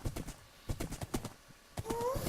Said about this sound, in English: I'm glad we have another breeding horse.